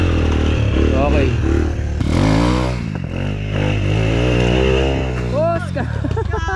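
A heavy motorcycle on a rough, potholed dirt road, its engine revving and labouring close by with clattering and scraping over bumps, while people shout and talk throughout.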